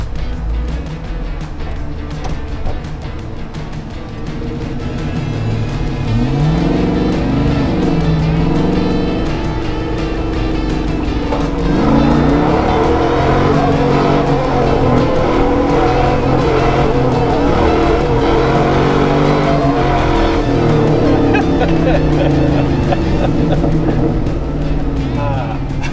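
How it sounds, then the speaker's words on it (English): A car does a burnout in a blocked-off burnout pit, its engine revving hard and roaring steadily with rising bursts, while people talk nearby over the noise. "That was a lot more noise than actual burnout"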